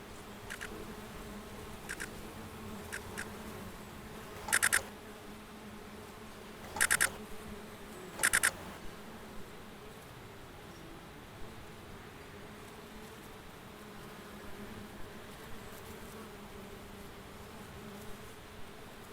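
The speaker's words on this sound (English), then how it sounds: "Bees all over the place, incredible." A steady low buzzing drone of many bees throughout, fairly faint and constant, with a few brief sharp clicks.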